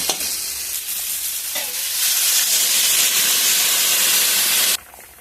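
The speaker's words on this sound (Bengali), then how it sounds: "যে ঝোলটার বলক এসে গেছে" Curry broth with ridge gourd and potato bubbling in a pan: a steady, loud hiss and seething rising partway through, close, then cutting off near the end.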